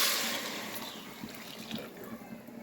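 Heated water poured into a cooking pan, a steady hiss of liquid splashing close by, loud at the start and easing to a continuous lighter trickle, with no voices.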